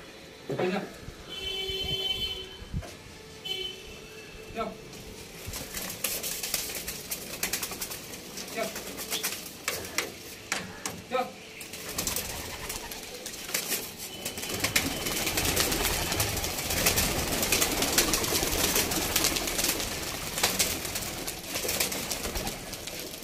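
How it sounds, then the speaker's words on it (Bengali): Male pigeons kept at an old pigeon fanciers' home are let out to fly, with wing flaps and bird calls rising to a busy flurry, while people talk throughout. "নর পায়রাগুলোকে ছাড়বে, উড়িয়ে দেখাবে আপনাদেরকে"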